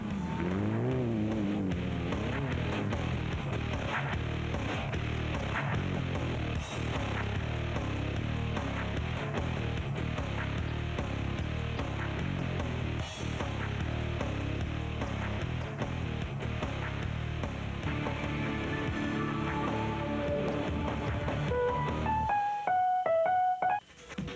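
Off-road racing cars roar through the sixth round of the SA Off-Road Car Racing Championship at Sun City, a loud, continuous engine drone close by that holds steady for about twenty seconds before shifting and cutting off near the end.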